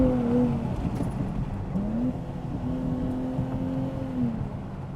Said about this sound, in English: I just love the way this thing pops shifts off and the sound of the exhaust